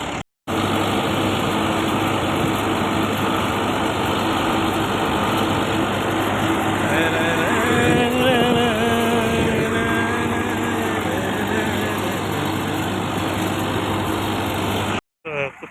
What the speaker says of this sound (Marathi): तर आता गिरणीवर जाण्यासाठी आपला ट्रॅक्टर सज्ज आहे